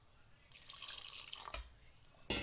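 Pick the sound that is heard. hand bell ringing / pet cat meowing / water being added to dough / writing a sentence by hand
water being added to dough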